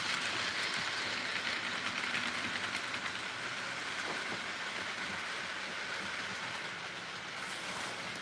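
An HO scale model train, CSX 4194 leading a manifest freight, runs with a steady, continuous rolling rumble and faint clickety-clack. The sound stays fairly even and close throughout, with no voices.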